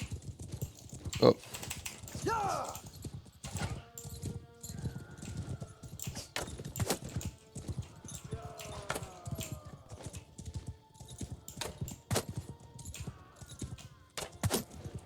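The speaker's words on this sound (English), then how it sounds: "These horse archers are wheeling around." Horses gallop in the Mount and Blade video game as horse archers wheel around, with a steady, quiet clatter of hooves over battle noise and clicking, and a brief voice exclaims.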